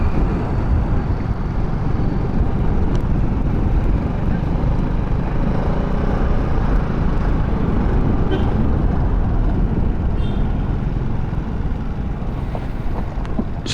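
A Vespa VXL150 scooter engine idles at low revs with a loud, close, steady low throbbing rumble that holds evenly for the whole stretch with no pauses.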